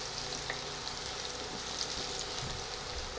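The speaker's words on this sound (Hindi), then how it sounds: "आप देख रहे हो लहसुन के साथ ही जीरो पकना शुरू हो गया है" Garlic and cumin seeds frying in hot oil for a spicy Marwari besan chilla curry, a soft steady sizzle with faint crackles throughout, fairly quiet and without talk.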